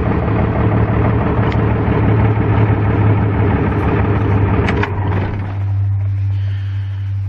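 1996 Dodge Cummins truck diesel engine running rough with a melted piston, a loud close uneven knocking idle that drops to a smoother, quieter low hum near the end.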